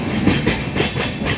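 An Indian train runs on wide-gauge track, heard from on board or close by as a loud, steady rumble with a rhythmic clickety-clack of wheels over rail joints.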